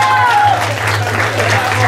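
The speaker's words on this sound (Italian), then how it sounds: "Applauso" Spectators at a hill-climb slalom race in Oppido Mamertina clap in a short, loud burst, heard over a steady low hum and a brief faint tonal whine at the start.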